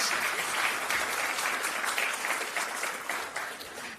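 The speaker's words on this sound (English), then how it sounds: "A round of applause, please." A hall audience applauds at the opening of the second Pupin Forum in Belgrade, giving a steady, full round of many hands clapping that holds for a few seconds and then starts to ease off.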